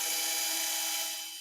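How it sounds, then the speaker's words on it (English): A surgical drill boring a femoral tunnel during ACL reconstruction, giving a brief continuous high-pitched whine that tapers slightly at the end, close and steady with no talking. "we are drilling here for 20 mm"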